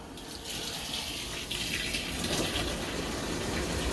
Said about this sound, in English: Filling up the rinse water.